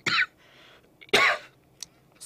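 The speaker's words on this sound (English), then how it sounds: "so I coughed" Two short, sharp coughs from a lone man teaching a civil engineering lesson, close and fairly loud against a quiet room, with a softer throat sound trailing after.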